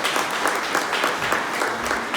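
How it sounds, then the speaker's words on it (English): An audience bursts into applause for a former state representative, many hands clapping in a dense, steady, loud wash that carries unbroken through the short stretch. "Please give a round of applause."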